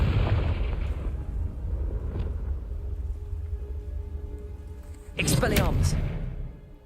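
A Confringo fire spell from the Hogwarts Legacy video game bursts loudly near the end, a sharp crackling blast over a low rumbling game background with a voice talking earlier.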